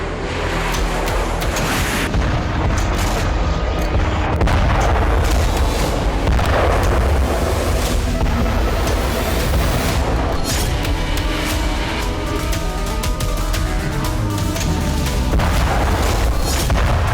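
A strike on a Russian arsenal produces a dense, continuous barrage of loud booms and crackling blasts that rolls on without pause.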